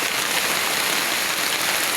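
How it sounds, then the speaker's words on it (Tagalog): Heavy rain pours down steadily at a house building site, a dense, loud, unbroken hiss of drops with no voices. "Ano lakas guys ng ulan."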